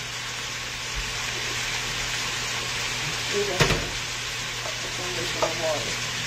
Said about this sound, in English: Well, this ham's a frying.